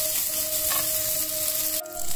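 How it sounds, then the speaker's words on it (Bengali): Cashews sizzle in a tablespoon of hot ghee in a large pan, a steady close hiss with a faint tonal hum beneath and a short dip before the frying resumes. "এক টেবিল স্পুন ঘি দিলাম এটা একটু গরম হয়ে গেছে কাজুগুলো এর মধ্যে দিয়ে ভাজবো"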